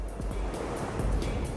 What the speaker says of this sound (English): As the water flows over the rapids, it cuts deep into the bedrock below.